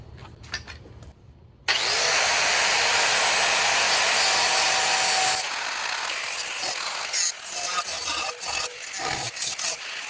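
Steel bike rack part being cut for a camper, with a loud, harsh continuous power-tool whine that starts abruptly, holds for several seconds, then drops to choppy intermittent grinding bursts.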